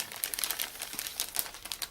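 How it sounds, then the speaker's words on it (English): A paper prize note with a gift certificate rustles and crinkles as it is handled, producing a steady, close, crisp scratchy rustle with small bursts throughout and no talking. "Excuse the rustling."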